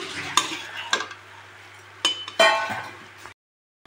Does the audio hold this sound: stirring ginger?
yes